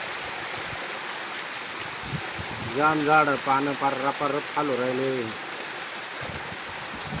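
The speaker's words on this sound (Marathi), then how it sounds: "रातच्या दडून पाऊस चालू आहे अक्षरशः पाऊस सुटका देईना" Steady heavy rain pours in a village during the monsoon, a constant broadband wash that carries through the whole stretch, with someone talking over it partway through.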